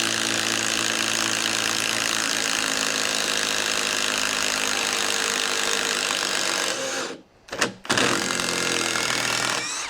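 A Kincrome battery impact driver drives screws into wood, making a loud, continuous rattling drone close by. It cuts out briefly near the end, then starts again.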